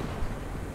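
Rocket artillery firing in the World of Tanks video game, a short, dense low rumbling boom that fills the moment at moderate level, with a brief stronger thump near the start.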